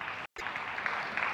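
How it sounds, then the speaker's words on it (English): Crowd applause at a professional table tennis men's singles final in London, dense and steady clapping that fills the space, with a brief cut to silence near the start. "Generous applause from the crowd."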